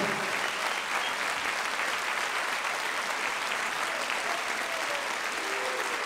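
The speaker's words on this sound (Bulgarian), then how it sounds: "Напълно заслужени аплодисменти от малки до големи." Steady, dense audience applause at a Bulgarian folk dance anniversary concert of the Gaytan ensemble, a full hall clapping continuously without pause, loud and even throughout.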